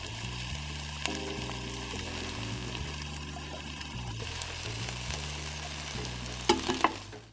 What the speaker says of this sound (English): let's just listen to the sizzle for a minute